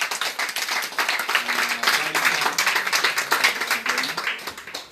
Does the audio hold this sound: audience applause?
yes